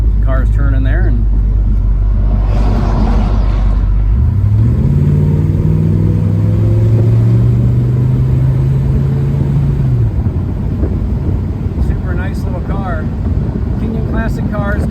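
A 1964 Chevrolet Malibu convertible rumbles through a turn, its V8 engine note rising and holding steady up close with wind buffeting the microphone, while someone talks over it.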